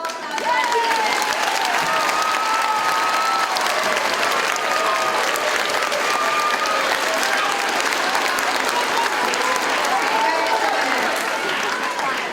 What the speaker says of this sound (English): Now we can all clap together.